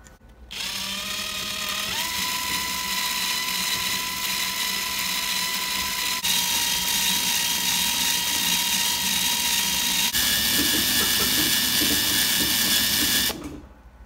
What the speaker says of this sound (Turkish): Evet, şimdi bobinlerimizi sarmaya başlıyorum.